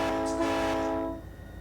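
A CSX locomotive horn in Run8 Train Simulator sounds one steady, loud chord for about a second, then cuts off, leaving a low rumble of the train.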